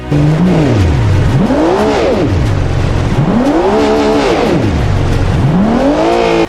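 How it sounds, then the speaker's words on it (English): A Porsche sports car engine in a driving video game revs repeatedly, pitch sweeping up and down in loud, steady waves, close and continuous with no talking. "Check out how this Porsche should sound like."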